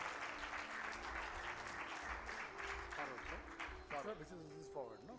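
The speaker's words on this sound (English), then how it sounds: "Please clap a little louder." Audience applause at a summit fills the room steadily throughout, with people talking over it toward the end.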